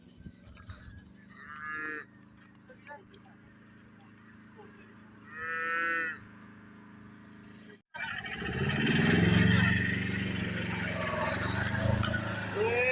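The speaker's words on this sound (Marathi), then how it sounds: "एक वासरू आहे" A calf follows people on a hillside walk and moos twice in clear, drawn-out calls. Rustling, footsteps and outdoor noise grow louder afterward.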